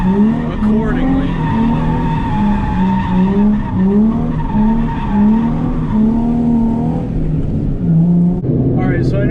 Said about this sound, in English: all I did was just give it gas and turn into the direction I wanted the car to slide